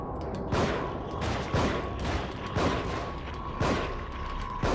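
Gunfire in the horror video game The Evil Within: about five heavy, booming shots at roughly one-second intervals, loud and close over a constant low background drone.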